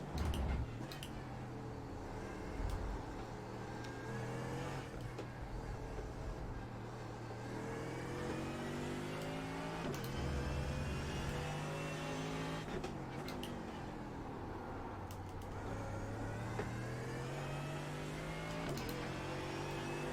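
Mercedes-AMG race car engine in the iRacing sim, a steady in-car engine drone through a sprint race with repeated upshifts and rises and falls in revs as laps continue, moderately quiet and without talk.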